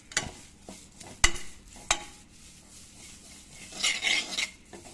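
Spices dry-roast in a pan over a low flame, with close metallic spoon scrapes and clinks against the pan at irregular intervals and a soft rustling stir in between.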